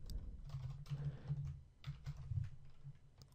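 Keyboard typing while entering PHP code, a quick run of soft, close key clicks in an irregular rhythm, with a low steady hum beneath and no talking.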